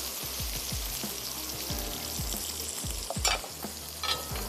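Vegetable curry is stirred with ground garam masala in a pan over low sizzling, with soft repeated scraping strokes and a couple of brief wet spatters near the end.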